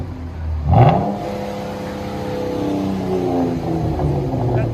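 Chrysler 200 with a 3.6L V6 and straight pipe exhaust revs up sharply, hits the rev limiter, then holds a raspy, droning idle nearby, loud and rough.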